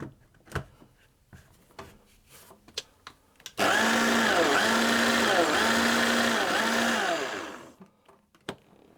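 Food processor pulsing flour, sugar and salt for a mango and coconut tart dough: four short, loud, even motor bursts in a row after scattered clicks and taps, then the whirring stops.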